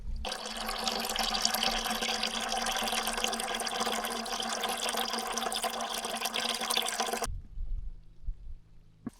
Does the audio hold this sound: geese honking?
no